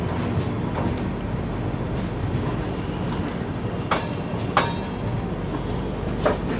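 The Howrah Amritsar Mail pulls out of Raebareli Junction with a steady rolling rumble, scattered with sharp clicks of wheels over rail joints.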